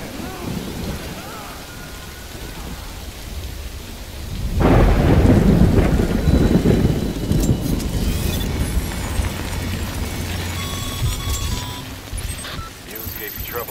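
Heavy rain pours steadily in a Death Stranding thunderstorm, swelling into a loud rumbling thunder roll about four seconds in that lingers beneath continuing downpour.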